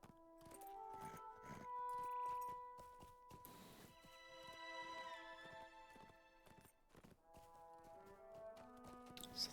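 Horse hooves trot steadily on a pony mount in the online game Lord of the Rings Online, the clip-clop running under continuous game music.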